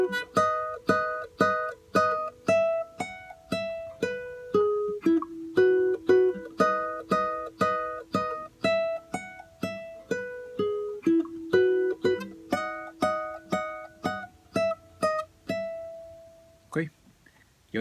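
Solo guitar plays a phrase of the Nicaraguan folk tune Balada Campestre, a steady run of clearly plucked single notes with repeated pitches, each ringing briefly before the next, ending on a held note, close and alone.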